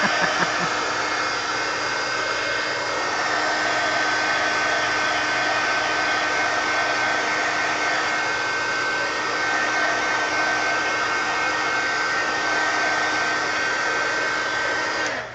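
Hair dryer blowing on paint in an art journal, a loud, steady, close whirring rush with a high whine, running continuously without a break.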